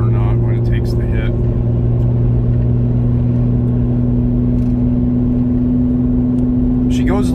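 A car with a 3.6L Pentastar engine set up for nitrous drives with a loud, steady engine drone and deep rumble inside the cabin, and brief voices come through near the start and end.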